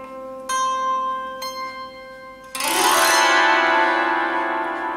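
Plucked strings of a five-chord zither ring out in two separate notes, then a full strummed chord rings loudly and sustains with a bright, shimmering decay.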